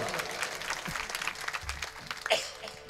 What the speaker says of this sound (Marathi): त्यांच्यासाठी सगळ्यासाठी टाळी सगळे वाजवा.